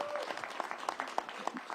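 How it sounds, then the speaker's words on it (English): Crowd applauding the mayor at a summer event in Washington, DC: a short burst of dense, fairly quiet clapping from many hands, with faint voices mixed in. "Can we give our mayor another round of applause for all that she does?"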